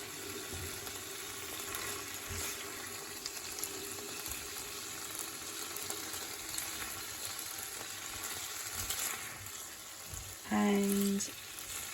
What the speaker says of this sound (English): Give it a bit more of a stir.